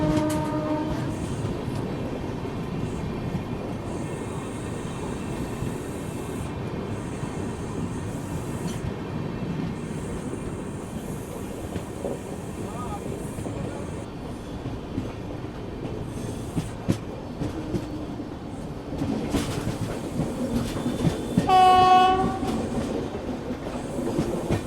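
An Indian passenger train, the Danapur Secunderabad Express near Banaras station, rolls loudly with steady wheel rumble and clatter, bright squealing tones and a horn-like wail near the end, no one speaking.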